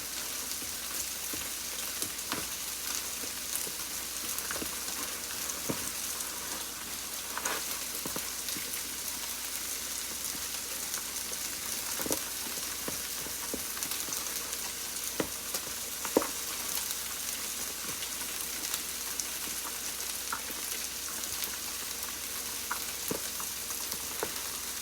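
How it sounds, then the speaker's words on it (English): Food sizzles steadily in a buttered pan while it is being stirred, with a constant frying hiss broken by occasional soft scrapes and taps of the utensil. "Stir it."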